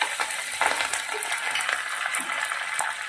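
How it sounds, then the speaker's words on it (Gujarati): Chopped green chillies dropped into hot oil tempering with mustard seeds and sesame, a continuous close sizzle and crackle with a few sharper pops. "ઝીણા તમારા લીલા મરચાં નાખું છું."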